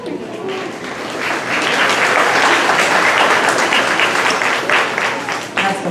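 Steady, full audience applause for a student at a school STEM recognition event, building quickly and holding loud throughout, with no speech over it.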